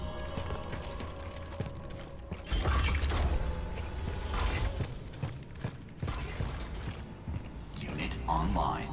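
A printer machine operating in the video game The Callisto Protocol gives off mechanical whirring, creaks and clunking with a ratchet-like rhythm, heard under a man's speech.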